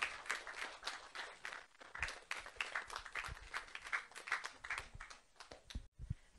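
A seated audience claps steadily for several seconds in a hall to welcome two representatives onto the stage. The applause is dense and fairly faint, thins near the end, and a few stray claps follow.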